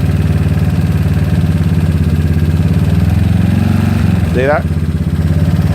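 GY6 scooter engine fitted with an OKO PWK 30mm carburetor runs steadily up close, its pitch climbing in a quick rev near the end as the throttle is tugged, with someone speaking briefly over it.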